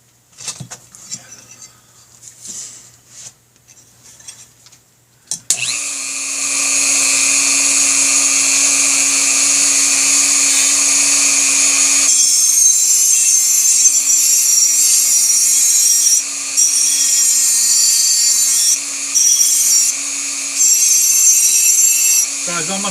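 A Dremel fitted with Velcro sanding discs grinds on a BigDog motorcycle oil tank top cover, a loud steady high-pitched whine running continuously after a few seconds of quieter handling noises at the start.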